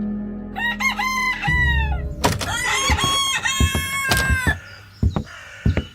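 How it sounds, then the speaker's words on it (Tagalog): A rooster crows nearby, a loud drawn-out cock-a-doodle-doo, with other fowl clucking and calling around it and a low background hum. "naalimpungatan ako sa sikat ng araw at tilaok ng manok"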